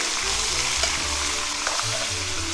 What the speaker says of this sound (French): nous allons ajouter les oignons, les faire revenir